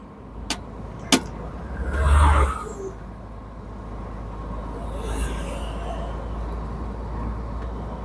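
A car passes on a road, swelling to a close whoosh and fading, with a second fainter pass later over a steady low rumble; a couple of sharp clicks come early on.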